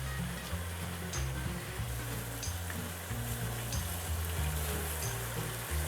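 Garlic-ginger paste sizzles steadily in simmering kofta curry gravy, a continuous close frying crackle under a low background hum, with no talking.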